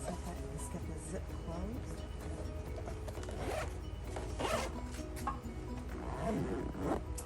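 A zipper drawn shut on a camp cooking bag packed with vegetables, a brief rasp sitting inside a steady, noisy backdrop with some talk around it.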